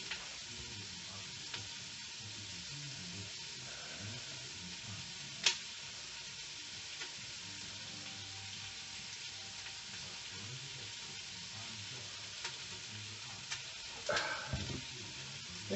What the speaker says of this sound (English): Oh, I love the smell of onions sauteing.